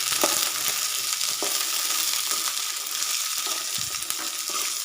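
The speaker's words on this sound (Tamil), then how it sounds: "இப்போ நம்ம கட் பண்ணி வச்சுருக்க அந்த பலாக்கொட்டையை உள்ளே சேர்த்துக்கலாம். இப்போ நம்ம இதை நல்லா வதக்கி விட்டுக்கலாம்." Cut jackfruit seeds fry in hot oil for a seed fry, a steady bright sizzle running throughout, broken by several soft scraping strokes of a spoon stirring them around the pan, close and without voices.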